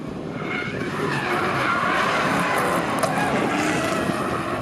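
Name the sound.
race car engines roaring and tires squealing while skidding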